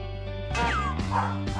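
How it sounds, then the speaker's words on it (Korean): A Welsh corgi, a herding breed, gives three sharp, high yipping barks about half a second apart, loud and close, after a brief quiet start. "다른 강아지들이 부산해질 때마다 가축몰이 습성이 발동. 그렇게 지저댔던 겁니다"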